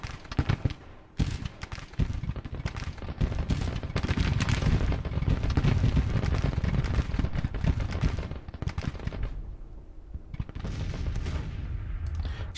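Artillery cannon fire in a Grand Tactician: The Civil War battle, a dense, continuous rumble of overlapping booms and crackling volleys that swells and eases, loud and sustained with no voices.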